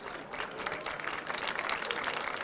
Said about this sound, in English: They are clapping because we extended the time window.